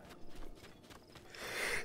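A horse's hooves clip-clop in a quick, light run of steps in Zelda: Breath of the Wild, fairly faint and a little distant, with a rising wash of game ambience near the end.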